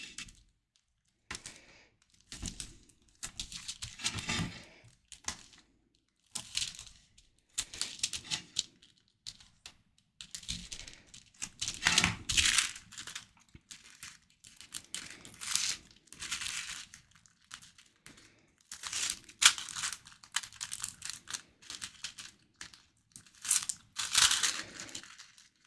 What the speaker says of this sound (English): I'm going to grab some double-sided tape because I think that will work best with our cellophane bag